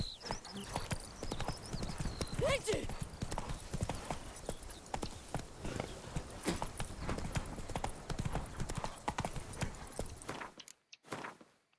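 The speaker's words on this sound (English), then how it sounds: "Even a horse drops if you ride it at a constant gallop." A horse's hooves pound in a rapid, steady galloping clip-clop in The Witcher 3, loud and continuous under game ambience, with a brief snort, ending abruptly.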